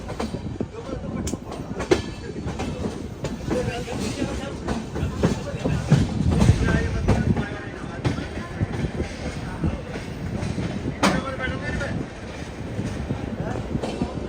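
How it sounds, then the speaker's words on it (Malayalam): A train rumbles and clatters nearby as it rolls into Jammu Tawi station, with metallic clanks and a faint squeal over steady rail noise, and a voice talking throughout. "ട്രെയിൻ ഇതാ ജമ്മു താവി സ്റ്റേഷനിലേക്ക് എത്തിക്കൊണ്ടിരിക്കുകയാണ്"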